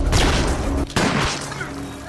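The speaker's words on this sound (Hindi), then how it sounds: "एक ऑफिसर पाब्लो के ऊपर गन तान देता है और 3 गोलियां फायर कर देता है।" Gunshots ring out as an officer fires three rounds at Pablo Escobar: loud, close bursts with a brief break in between, dense and booming rather than clean single cracks.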